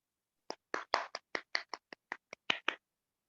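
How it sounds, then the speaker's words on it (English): A handful of people on a video call clap to welcome a storyteller at a personal story session, about a dozen separate, close, uneven claps spread over three seconds with no talk. "Thank you for that clap."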